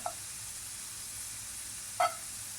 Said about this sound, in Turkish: Tavam ocağımın üstüne alıp birazcık tereyağı ilave ediyorum.